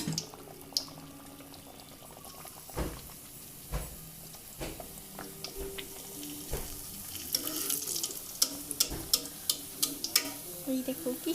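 Food sizzles and pops in hot oil as pieces are added one at a time, crackling bursts growing denser and louder over steady frying hiss.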